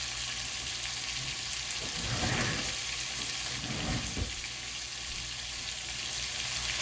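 Onions frying in a skillet for hamburger steak, a soft steady sizzle with a couple of brief louder tossing and scraping moments in the middle, no voices.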